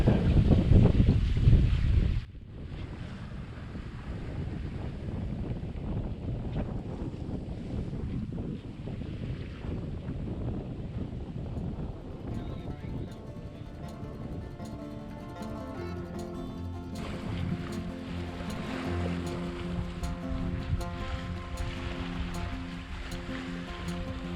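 A sailboat moves easily across ocean waves on a calm, sunny day between Caribbean islands, with steady wash of water and wind noise against the microphone throughout; a sharp gust opens the clip and music-like tones enter later.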